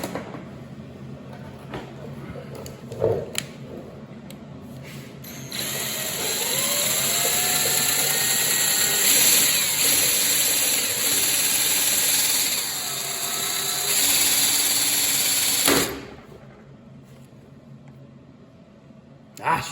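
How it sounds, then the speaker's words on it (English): A power drill with noticeable runout bores into a broken bolt held in a bench vise, running in a long steady whine for about ten seconds with rising pitch sweeps, preceded by a few clicks and handling knocks. "This particular drill I'm using, this power drill, has a lot of runout."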